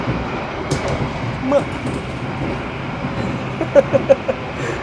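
Sembrani train cabin while running at speed: a loud, continuous rumble with a rattling ride, plus a few sharp knocks and clicks near the end.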